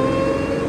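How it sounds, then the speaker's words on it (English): The De Tomaso P72 prototype sports car, with its engine mounted right behind the occupants' heads, gives a loud, steady, close-up engine roar held at a constant pitch. "You have the engine right behind your head and it's so loud."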